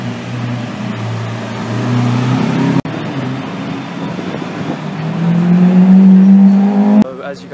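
A Lamborghini Aventador SV Roadster supercar drives past with a loud, rising engine note that builds toward a close pass and then cuts off sharply, set against street background noise.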